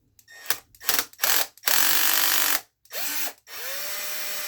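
A cordless power tool whirs in several short bursts and one longer run, pitch rising and falling as it spins out bolts from the center differential area of an Arrma Mojave 6S RC car, loud and close.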